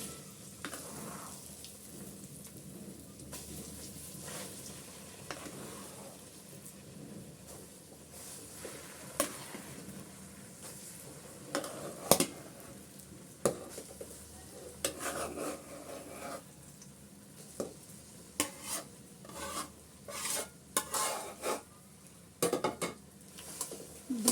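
Mashed olives fry in oil with five-spice seeds for a homemade pickle, a soft sizzle under repeated sharp clinks and scrapes of a spatula stirring against the pan.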